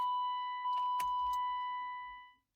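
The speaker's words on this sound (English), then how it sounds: "This beeper is extremely annoying" A steady, high electronic key-in warning tone sounds continuously from a BMW E36, with a brief jingle of keys partway through before it cuts off.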